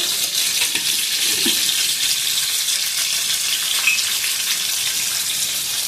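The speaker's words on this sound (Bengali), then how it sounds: "অল্প একটু সিদ্ধ করে নিয়েছি এবার খুব ভালো করে ভেজে দেব" Parboiled potato and cauliflower pieces fry in a pan, giving a steady, dense, close sizzle that holds evenly throughout with no talking.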